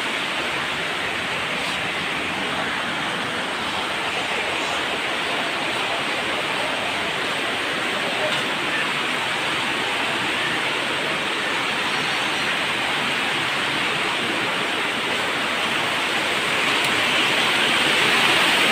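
Heavy rain pours down in a steady, dense roar with no pauses, growing slightly stronger toward the end.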